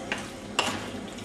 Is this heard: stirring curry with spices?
yes